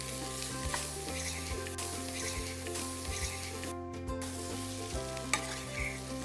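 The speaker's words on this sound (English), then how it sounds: "Add everything together and give it a good mix." Sausages and pasta sauce sizzle steadily in a pan while a utensil stirs them, with soft scraping and clinks over the constant frying hiss.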